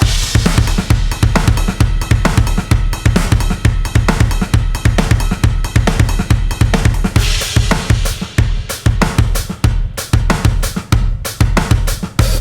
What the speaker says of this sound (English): Here's an offbeat groove that works well in like ska music and other stuff like that.